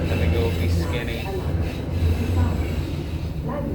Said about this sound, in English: I think the train will be loud.